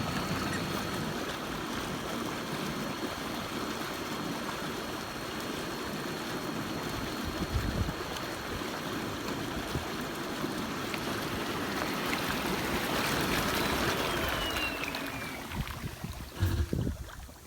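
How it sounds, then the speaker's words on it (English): Bubble jets of a Bestway Lay-Z-Spa Palm Springs inflatable hot tub running: a steady, broad churning rush of air through water, continuous and fairly loud, with a brief clunk or two near the end. "the hot tub doesn't have any jets, but it does have bubbles,"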